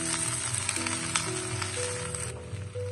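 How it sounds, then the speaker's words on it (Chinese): Sweet potato leaves and stems stir-fried in a hot wok, giving a constant loud sizzle and crackle with a faint tonal hum underneath, and no talking. "大约翻炒1分钟左右，我们就把红薯叶全部放在锅中"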